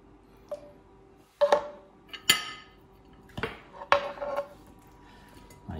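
Crispy beef spooned over a salad, a few sharp clinks and scrapes of a spoon against a dish, spaced irregularly, close and clear in a quiet kitchen.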